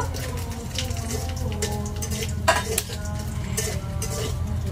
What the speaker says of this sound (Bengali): এখন লেজা ভর্তার লেগা শুকনা মরিচ বাইজা নিব।